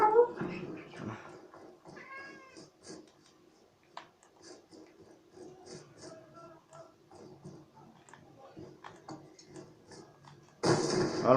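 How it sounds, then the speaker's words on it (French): A pet cat meows repeatedly indoors during a gaming session, several short calls spaced across the recording with a voice and clicking game sounds around them. "Non, le chat, tais-toi, s'il te plaît"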